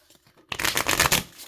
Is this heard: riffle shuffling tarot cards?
yes